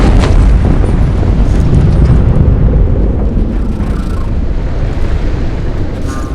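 Volcanic eruption spilling lava in the god-game From Dust, a loud continuous low rumble and roar with a windy hiss throughout, steady and close with no voices.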